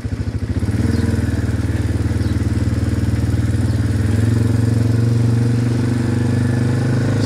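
A farm motorbike with a centrifugal clutch pulls a trailer in first gear low range, its engine close and loud with a steady pulsing drone that rises slightly in pitch as it picks up, no talk.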